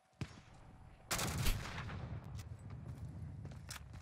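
Gunfire in the Warzone video game: a sharp shot, then a burst of rapid automatic fire with scattered further cracks trailing off over steady background noise.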